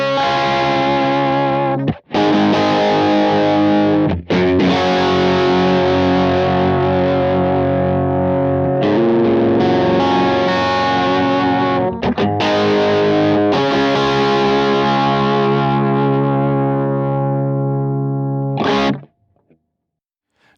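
Electric guitar played through a Kemper profile of a Vox AC30 with the normal channel on full and no effects added, a loud, continuous chordal passage of about 20 seconds with a few brief breaks, ending in silence.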